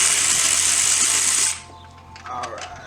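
A power tool whirs at high speed while removing a bolt during a front-mount intercooler install on a 2017+ Honda Civic Type R, loud and steady before cutting off abruptly, followed by a few faint clinks.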